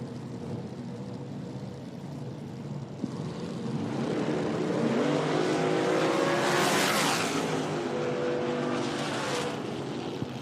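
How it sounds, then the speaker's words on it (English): A loud drag racing car roars past during IHRA Outlaw Nitro Series time trials, engine noise rising from a steady rumble into a surging, pitch-shifting blast that peaks then fades slightly as it passes. "Another loud car."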